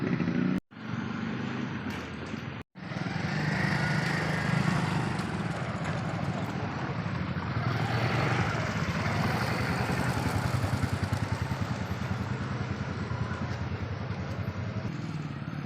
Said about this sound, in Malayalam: ഇപ്പോൾ ബൈക്ക് പോകുന്നുള്ളൂ.